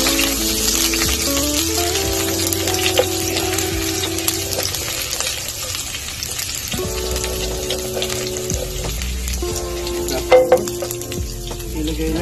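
Garlic frying in hot oil for ampalaya con carne, a steady loud sizzle running throughout with occasional clinks, and a low musical tone sitting underneath the whole time.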